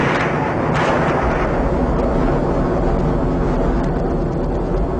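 The 1988 Pepcon plant explosion comes through as a loud, sustained, rumbling roar that fills the whole moment without a break.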